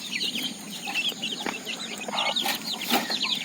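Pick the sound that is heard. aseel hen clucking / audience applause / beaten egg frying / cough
aseel hen clucking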